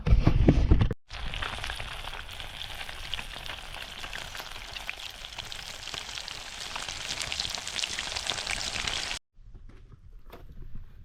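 Freshly caught fish sizzling and spitting in hot oil in an outdoor pan for Fish 65, a steady close crackle that runs for several seconds before cutting off, with faint rustling afterward.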